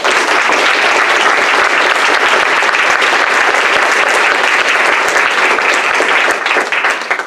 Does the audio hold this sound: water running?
no